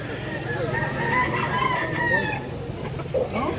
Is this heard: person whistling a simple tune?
no